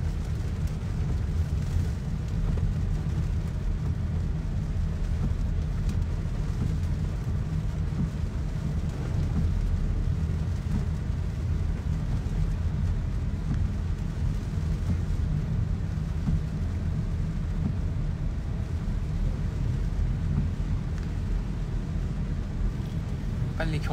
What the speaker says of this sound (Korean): 내 소나기가 엄청 오네.